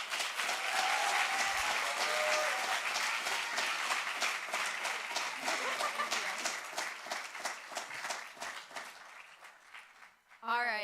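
An audience at a startup demo day applauds after a pitch, steady loud clapping from many hands that thins out near the end, with a voice breaking in briefly as it closes.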